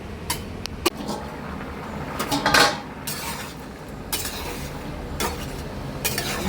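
A lid goes onto a pot of papaya and potato boiling on a gas stove, with several clattering metal knocks and scrapes of cookware over a steady low background, one louder rattle in the middle.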